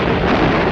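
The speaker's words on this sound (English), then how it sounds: "The concussion of bursting bombs is deafening as Jap planes drop their eggs of destruction" Bombs bursting during the 1942 Battle of Midway, a loud, dense, sustained roar of blast noise with no break, as heard in an old newsreel soundtrack.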